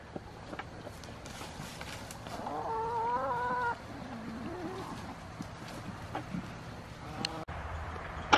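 A few warbling gobbles from turkeys nearby, with soft clucks and outdoor rustling around them.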